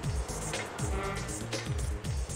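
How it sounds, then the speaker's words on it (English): Cars in the video game Frogger 2 rush past in a steady stream of loud, repeating engine swooshes, each one whooshing by close with a falling pitch, with no talk over them. "Now the cars are moving faster."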